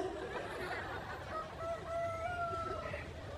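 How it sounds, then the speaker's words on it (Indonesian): A rooster crows in the distance, its drawn-out call rising faintly over a steady background of murmuring and ambient noise. "Itu suara ayam beneran atau handphone?"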